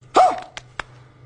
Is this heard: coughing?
no